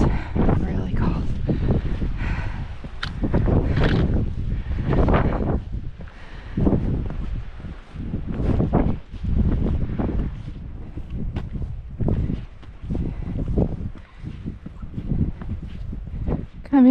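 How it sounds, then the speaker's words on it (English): Strong cold wind buffets the microphone on a mountain hiking trail in the White Mountains of New Hampshire, loud continuous gusts that rise and fall throughout. "Oh, that wind is really cold."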